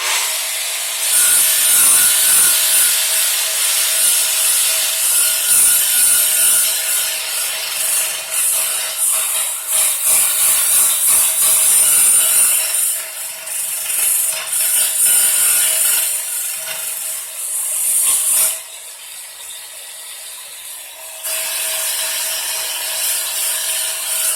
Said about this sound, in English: You just run through your pads really quick, especially with porcelain.